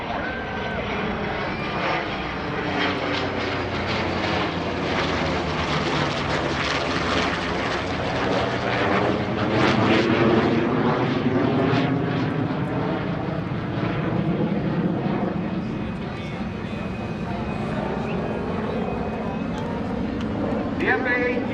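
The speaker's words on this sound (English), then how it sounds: "Mr. Jim Tobul flying the Corsair, and Lieutenant Chris Walker and Lieutenant Marc Garcia flying the Super Hornet" A Corsair and an F/A-18F Super Hornet fly past together at the 2018 NAS Oceana airshow, a loud sustained engine roar that swells and sweeps overhead, with an announcer talking throughout.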